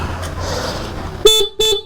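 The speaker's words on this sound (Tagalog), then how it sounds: "in-installan na rin natin siya ng busina. Dali naka-dual yan, naka-dual horn" Dual horn fitted to a Honda Click 125i scooter gives two short, loud honks, the second slightly longer, right after a low background hum.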